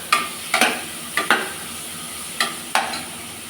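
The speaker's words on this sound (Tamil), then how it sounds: "தக்காளி நல்லா வணங்கணும்னா கொஞ்சம் வெங்காயம், கொஞ்சம் கல் உப்பு போட்டுக்கணும்." Onion and tomato sauté with rock salt and ginger garlic paste in a pan for mutton kulambu, a soft steady sizzle broken by several sharp spoon scrapes and stirs.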